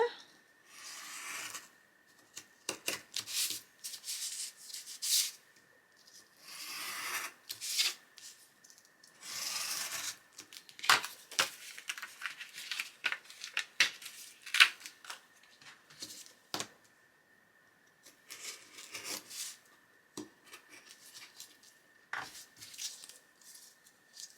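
Scissors snip through paper for a junk journal frame in short, crisp bursts of cutting and rustling. The sounds are close and fairly quiet, separated by brief pauses.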